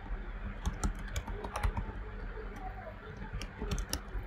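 Typing on a computer keyboard while writing code, with soft, quick key clicks in uneven bursts under a low background hum, close by and fairly quiet.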